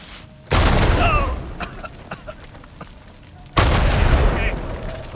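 Two loud explosions go off in the action video game Uncharted 4, each a sudden heavy boom with a rumbling tail, spaced about three seconds apart with scattered smaller pops between.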